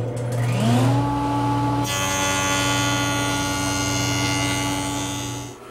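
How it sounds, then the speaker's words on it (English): A jointer spinning up and running steadily as the edge of an arced wooden apron is pushed through against the fence, a loud continuous machine hum with a rising startup whine and a brighter cutting rush partway through. "First I'll run it through the joiner"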